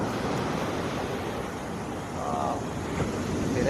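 Strong sea waves at Alappuzha beach on an evening, a steady broad wash of surf mixed with wind noise on the microphone, continuous and fairly loud.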